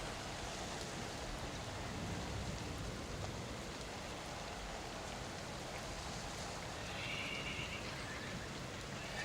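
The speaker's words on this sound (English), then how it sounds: "There's those strange horse sounds." Horse neighing and whinnying as background ambience during a tabletop fantasy role-playing game aboard a ship, faint and distant beneath a steady rain-like hiss.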